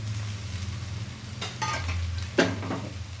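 Garlic and green chili paste frying with browned onions in a pan, a close hiss with stirring scrapes over a low steady hum, one sharper clatter near the end.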